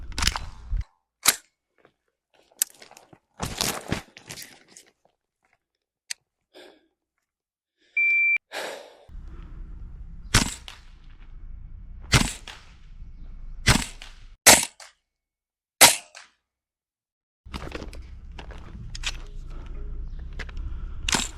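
Noveske N4 green gas blowback airsoft rifle firing five rounds at a 20-meter target, sharp snapping cracks spaced seconds apart, each followed by a short mechanical clack, with quiet stretches and faint background hiss between shots.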